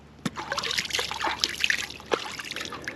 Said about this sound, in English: Just going to put a bit of water on the spool.